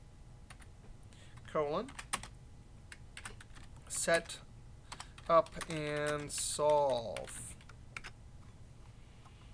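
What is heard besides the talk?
typing on a computer keyboard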